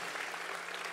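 A congregation at an online church service applauds continuously, a dense, steady wash of clapping that fills the whole second without a break.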